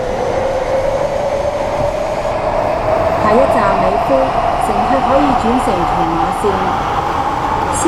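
A Hong Kong MTR Tsuen Wan Line train running, with a loud steady rumble and hum of the moving carriage throughout, while announcements play over it.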